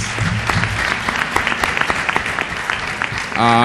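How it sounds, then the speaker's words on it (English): Dense, loud applause from a lecture audience greeting a debate winner, continuous crowd clapping throughout with a brief voice at the very end. "A round of applause for him, please."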